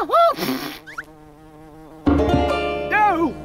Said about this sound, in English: Surely bugging a bee will only lead to trouble.